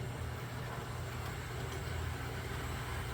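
Spectrum Acela model train car dragging and grinding around a curve on the layout, a steady, fairly loud rumbling hum that runs unbroken and close for the whole stretch, with no voices.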